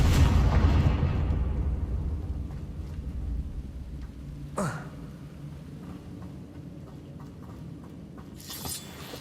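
A Confringo blasting curse goes off in Hogwarts Legacy, a loud rumbling burst at the start that decays into a low roar, followed by a sharp crack midway and another hissing burst near the end.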